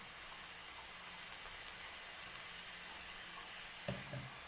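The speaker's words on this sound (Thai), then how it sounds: "เร่งไฟเลยจ้าผัดกะเพราเร่งไฟเลย" Holy basil and minced pork with dried chilies stir-fried over high heat in a hot pan, a steady broadband sizzle throughout with a few louder stirring scrapes near the end; no talking.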